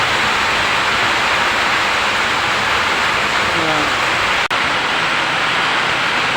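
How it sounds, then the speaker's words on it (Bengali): Steady heavy rain with water leaking into a house in the dark, a loud continuous hiss filling the whole stretch with one brief sharp click near the end. "ঘর থেকে জল পড়ছে দেখাতে পারছি না অন্ধকারে"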